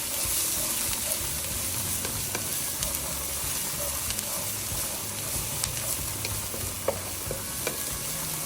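About a teaspoon of diced garlic sizzling in a hot pan, a steady bright frying hiss with occasional soft stirring clicks and pops, close and moderately loud, no voices.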